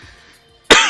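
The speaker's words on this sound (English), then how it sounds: "Laughing made me cough." A single loud, abrupt cough from a person who has just been laughing bursts out close and alone near the end, after a quiet stretch.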